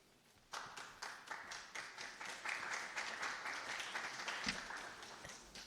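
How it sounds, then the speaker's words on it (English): Audience applause at a General Assembly event introducing a bill on Access to Public Records Act reforms: clapping starts abruptly after a quiet moment, then continues as a sustained, fairly close burst of many hands. "You can save your applause until we pass the bill."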